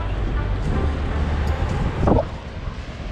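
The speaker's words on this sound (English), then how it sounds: "I'm sorry if you guys can hear the wind." Steady low rumble of wind buffeting the microphone outdoors on the beach at Seaside, Oregon coast, continuous throughout with a brief louder gust near the end.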